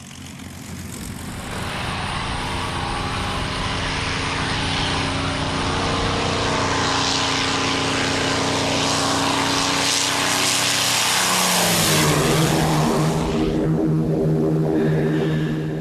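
P-51 Mustang fighter planes take off with propeller engines droning and building into a loud, continuous roar that swells and shifts pitch as they pass, with no voices.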